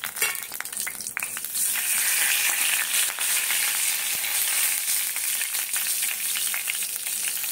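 Garam masala hitting hot oil in a pot for a meat curry gives a loud, continuous close sizzle with occasional stirring scrapes, no voices.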